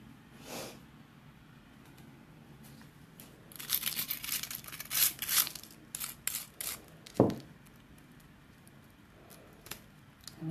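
Crisp paper crackles and small tearing snaps as die-cut cardstock pieces are popped out of a card by hand, in irregular bursts clustered near the middle, close and fairly quiet against a soft background hiss.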